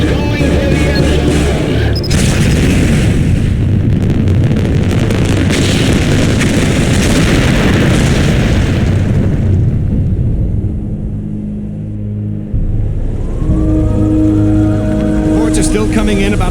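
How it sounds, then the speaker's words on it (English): A massive explosion at the Super Bowl stadium in Baltimore in The Sum of All Fears, a loud sustained roaring rumble that fades into a quieter hum with a news voice speaking. "Reports are still coming in about a massive explosion in Baltimore, Maryland, the site of this year's Super Bowl."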